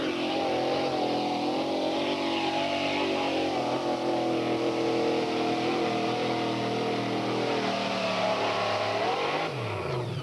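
A 1970 El Camino tractor puller, the Baby Blue Knight, roars at full throttle through a pull at a two-wheel-drive national tractor pulling event, a loud sustained engine howl that sags in pitch near the end.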